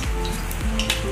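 Chopped onions sizzle steadily in a hot pan, with a soft scrape and clink of a utensil stirring them, heard up close in a home kitchen.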